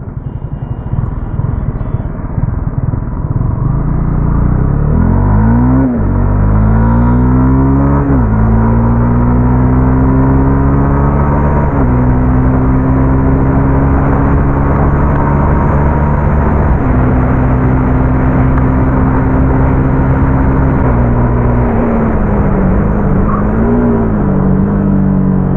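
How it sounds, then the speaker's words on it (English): Honda CB300F motorcycle ridden at low speed, a loud steady engine drone with wind roar that rises and falls as it shifts through gears, heard continuously from the rider's position. "Even in the lower speeds, this motorcycle feels at home."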